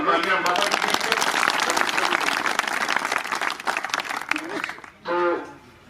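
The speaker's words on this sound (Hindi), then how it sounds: "एक बार जोरदार तालियां बाबा जी के लिए।" Crowd at a village gathering giving loud applause for Baba ji, dense clapping that swells and then tapers off, with a voice briefly heard near the end.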